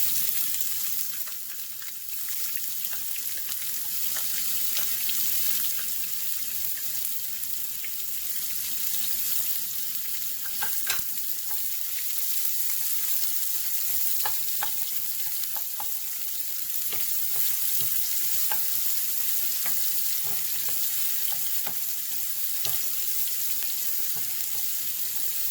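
Onions fry with spluttering mustard seeds for a brinjal fry, a continuous loud sizzling hiss dotted with small crackling pops throughout.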